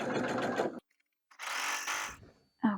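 A sewing machine stitches an elastic casing on a child's vintage puff-sleeve dress, running in three short bursts of close, steady mechanical whirring separated by brief silent pauses.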